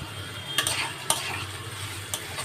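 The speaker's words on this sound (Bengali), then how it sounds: "পেঁয়াজগুলোকে একটু ভাজা ভাজা করে নেব।" Chopped onions frying in oil with a little salt and turmeric, a quiet steady sizzle close up, broken by three sharp scrapes of a spoon stirring the pan, no voices.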